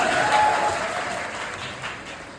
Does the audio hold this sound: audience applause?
yes